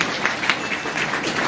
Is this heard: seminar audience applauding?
yes